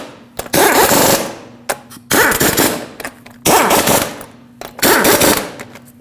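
Four loud bursts of a pneumatic impact wrench tightening lug nuts on a Ford Ranger wheel, each rattling hammer burst lasting about a second with short gaps between.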